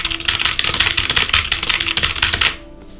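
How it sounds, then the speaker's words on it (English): Rapid, loud clacking of keys on a computer keyboard, a dense stream of close taps that stops abruptly near the end. "Very loud keyboard."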